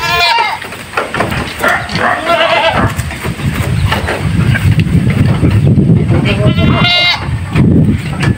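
Goats of an unusual breed on a farm bleat loudly and repeatedly close by, with wind buffeting the microphone and someone talking over them.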